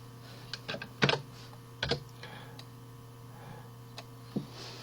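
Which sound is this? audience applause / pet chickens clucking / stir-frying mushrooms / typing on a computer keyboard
typing on a computer keyboard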